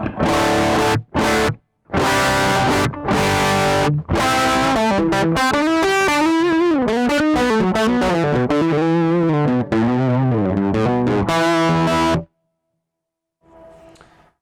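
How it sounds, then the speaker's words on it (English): Harsh, fizzy distorted electric guitar from a Mooer Preamp Live recorded DI with cab simulation off: choppy chord stabs, then a bending lead run, ending abruptly with a faint scrape. "if I switch the cab simulation off, this is what the preamp would normally sound like DI"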